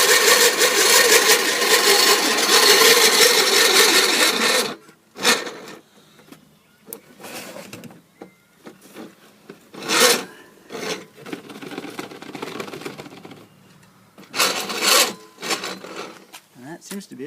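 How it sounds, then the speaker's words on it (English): A hand-cranked grinder grinds wheat into flour with a loud, continuous gritty rasp for several seconds. It then stops, leaving only a few short grinding bursts later on. "I don't know how many times I have to run it through the grinder"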